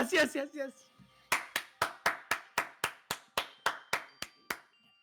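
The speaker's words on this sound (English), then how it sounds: "Everyone clap it up for Monami's death!" After a brief burst of voices, a steady run of about thirteen evenly spaced, sharp handclaps rings out in the video game Danganronpa Goodbye Despair, each clap crisp and distinct.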